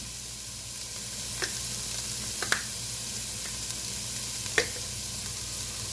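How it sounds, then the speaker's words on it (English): Minestrone vegetables sizzle gently in a pot while being stirred, a soft, constant frying hiss broken by a few sharp clicks and scrapes of the spoon against the pot. "We're going to stir it around real good so they start to sweat"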